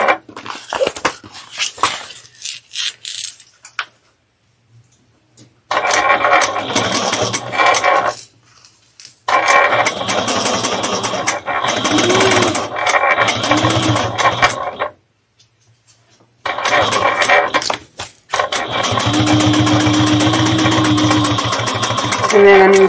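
A sewing machine stitches a bag lining in three long, steady runs close by, separated by short pauses.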